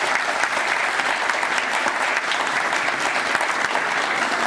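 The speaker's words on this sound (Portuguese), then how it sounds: "Mais uma salva de palmas, por favor." Dense, continuous audience applause at a certificate ceremony on environmental certification for the printing industry, loud and even from start to finish with no talk over it.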